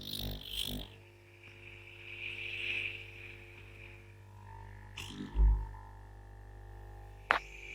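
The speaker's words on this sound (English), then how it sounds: "So all the noise you're hearing is just the air coming out of the pump" An aquarium air pump runs with fingers blocking two of its nozzles, producing a steady low hum and hiss of escaping air, close and fairly quiet, with a brief thump and a sharp click near the end.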